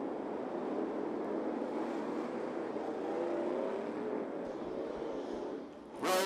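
UCRA late model race cars roll as a group around the small 411 Motor Speedway oval, a dense rumbling engine drone holding steady before a brief sharp noise at the end.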